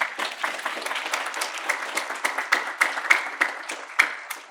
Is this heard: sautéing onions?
no